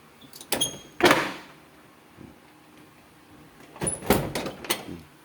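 A repaired bathroom door swings and bumps in a quiet room: a few sliding, knocking movements near the start, a lull with a faint tap, then a louder cluster of door clatters and thuds toward the end.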